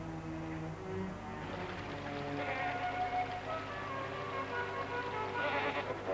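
Feral goats bleat on a wooded slope, several wavering calls overlapping and drifting at moderate distance, fairly faint against a soft outdoor background.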